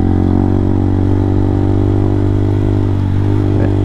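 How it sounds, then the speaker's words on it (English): Honda Hawk 250 motorcycle engine braking, a loud steady drone with a low throbbing exhaust note and mechanical clatter, heard close up while riding. "The engine braking so strong."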